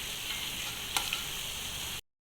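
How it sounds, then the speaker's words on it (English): Chili paste being stirred into kurma curry in a hot pan, a steady sizzle with a spoon clink or two partway through, close and moderately loud. "we have to put the chili paste in 1 spoon and mix it."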